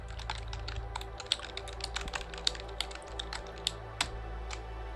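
Steady rapid typing on a computer keyboard, crisp key clicks in an irregular rhythm over a low background hum, fairly close.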